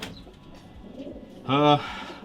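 A racing pigeon from the Ian Van de Pas line gives one short coo at a loft in Grosi, Romania, close by over faint background murmur.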